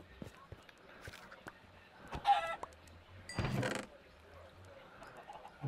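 Chickens in the game Minecraft clucking in short bursts, with a louder burst partway through, heard under ongoing talk and game noise.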